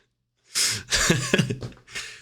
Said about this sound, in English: They said Europeans be coughing everywhere.